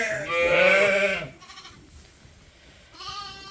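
A ewe with lambs on a sheep farm bleats loudly and close by in one long, wavering call, followed by softer bleats and low background noise.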